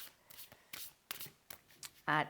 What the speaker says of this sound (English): let's give them a bit of a shuffle and pull out a card